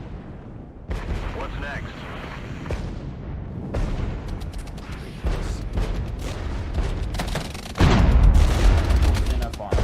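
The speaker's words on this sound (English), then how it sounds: "Open fire from very close range." Gunfire and artillery booms rumble through a Regiments battle, troops firing at very close range, dense crackling volleys building louder toward the end, with someone speaking over the fighting.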